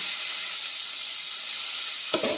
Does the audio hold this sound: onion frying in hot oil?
yes